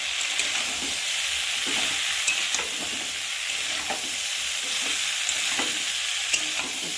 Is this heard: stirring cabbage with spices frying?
yes